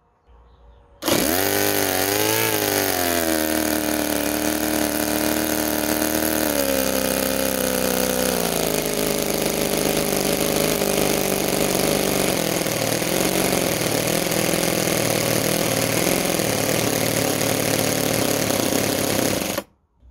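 Homemade mini 7cc two-cylinder Otto engine starting and running steadily, a loud buzzing, high-pitched whine that rises briefly, then settles into an even drone for about twenty seconds before cutting off.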